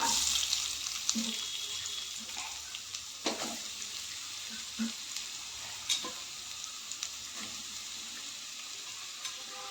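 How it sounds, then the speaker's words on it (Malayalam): Onions sauté in a pan with a soft, steady sizzle and occasional light scrapes of stirring, quiet and close with no voices. "ഇനി ഉള്ളി വഴറ്റിയെടുക്കാം"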